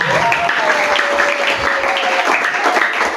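A church congregation applauds in a dense, continuous wash of clapping that holds steady throughout, with a sustained tone running faintly underneath.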